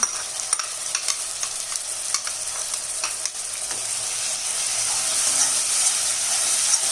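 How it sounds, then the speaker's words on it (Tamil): Onion paste sautés in a pan for a matar gravy, giving a continuous close frying sizzle with repeated small scraping taps of a spoon stirring through it, building slightly in intensity. "வெங்காயம் பேஸ்ட்டு சேர்த்து நல்லா வதக்கணும்."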